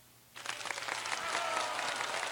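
One person claps for himself at a lively media and pop culture show, a steady burst of applause starting after a short quiet moment and carrying on at even strength to the end.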